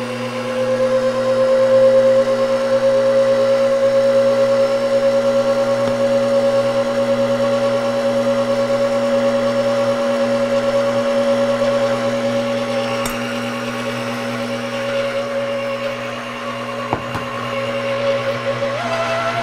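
A Shamrock 6-quart stand mixer runs continuously while mixing batter, a loud steady motor whine with a constant pitch that barely changes over the whole stretch, plus a faint wobble and a small knock near the end.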